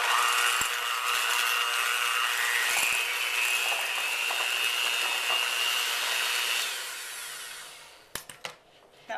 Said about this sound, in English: I'm just going to mix these two together with my electric mixer